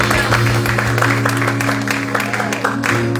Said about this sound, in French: Un bon applaudissement pour Jésus.